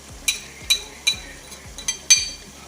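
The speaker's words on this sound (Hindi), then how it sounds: "मैं इसको सारे मसालों को डालकर अच्छे से भून रही हूँ।" Spices for aloo keema being fried and stirred in a pan: a faint sizzle under a steady series of sharp metallic scrapes and clinks from a spoon, about two per second, close up.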